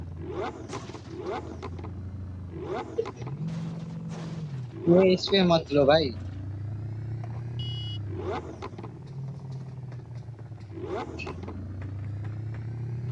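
A gravity bike's engine revs in a video game, rising in repeated swelling whines roughly every two seconds, while someone talks over it.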